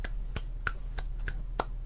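A person in a Minecraft game session gives six sharp, evenly spaced hand claps, close and fairly faint over a steady low hum, with no talk.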